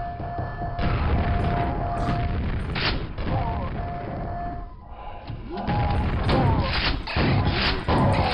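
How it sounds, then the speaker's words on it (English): Grenade explosions in the Quake Quoth mod, a loud sequence of booming blasts and crashing impacts with mechanical clatter, bursting repeatedly over several seconds. "Gotta love that no look. Grenade lob."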